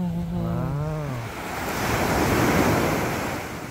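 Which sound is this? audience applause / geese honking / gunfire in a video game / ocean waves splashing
ocean waves splashing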